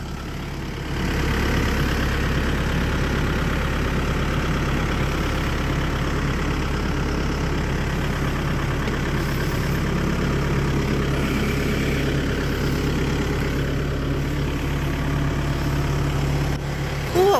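A backhoe's heavy diesel engine idles steadily and loudly at close range, a continuous low rumble that holds unchanged on a winter homestead.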